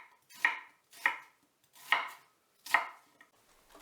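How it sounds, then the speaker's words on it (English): A knife slicing through an onion on a cutting board, four crisp separate chops spaced about half a second to a second apart, close and clear with no talking. "Cut in 2 pieces 1 onion"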